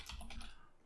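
A few quick keystrokes tap on a computer keyboard while a folder name is typed, close and soft, clustered in the first half-second before fading to quiet.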